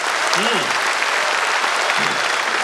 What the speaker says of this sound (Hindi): तालियां आपकी इस बात पर उठे।